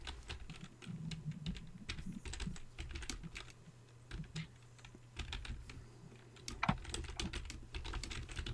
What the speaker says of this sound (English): Now it's quiet, but typing is happening.